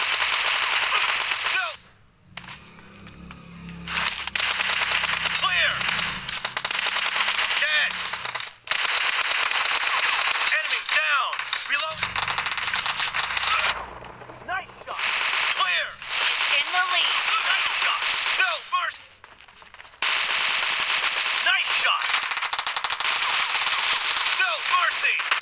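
Automatic M416 assault rifle fire in PUBG Mobile, a loud, dense crackle of rapid bursts that keeps going for long stretches with a few short pauses, set against game music and effects.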